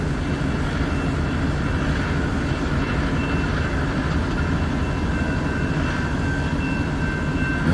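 A freight train sets off on a freezing night once the conductor frees a tied-down brake, giving a loud, steady rumble and whine of rolling cars with a sustained high squeal running throughout.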